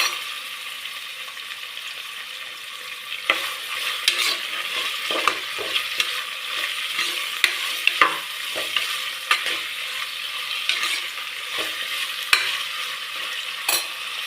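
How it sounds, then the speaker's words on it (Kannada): Green peas, fresh and soaked, tip into softened onions in a pan for tomato bath and sizzle steadily, while a spoon scrapes and clinks against the pan in irregular taps throughout, close and clear. "ಇದೇ ಟೈಮ್ಗೆ ಹಸಿ ಬಟಾಣಿ, ನೆನೆಸಿರೋ ಬಟಾಣಿ ಹಾಕೋಣ."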